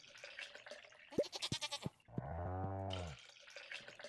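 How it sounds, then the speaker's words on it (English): A goat bleats in the Stardew Valley farming game, a loud harmonic call lasting about a second, set between game sounds and a burst of running water from a tap. "Goat."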